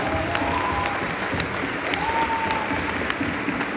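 A crowd at a ska concert applauds with sustained, dense clapping and light cheering, a few faint tonal whoops rising over the steady wash.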